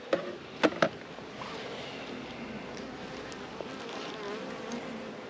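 Honey bees hum steadily around an open beehive during a hive inspection, a soft continuous drone with a few brief sharp knocks near the start, no voices.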